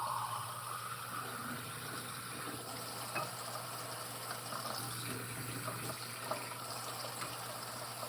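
Water pouring steadily into a coffee maker's reservoir, a continuous even rushing fill lasting throughout, close and moderately loud with no talk.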